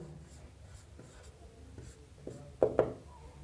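A pen writes out a solution during a trigonometry maths lesson, with soft scratching strokes through the clip and two sharp taps near the end, close and fairly quiet with no talk.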